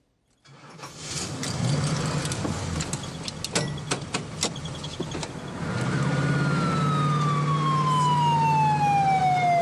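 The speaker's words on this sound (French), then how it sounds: "Quand deux propriétaires de Ford Grande Torino version Starsky et Hutch se retrouvent, ils décident de se faire entendre lors de leur arrivée" Ford Gran Torino cars in Starsky and Hutch livery arriving at a European gathering of film cars, engines starting and revving with sharp bursts before a loud wailing siren rises and sweeps down, close and continuous, with no talk.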